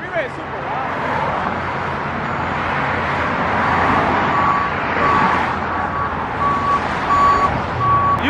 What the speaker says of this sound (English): I never realized how loud the freeway is